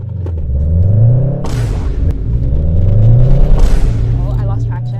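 An upgraded car accelerates hard and loses traction: a loud, close engine rises and falls in pitch through gear changes, with two brief noisy bursts as the tires slip.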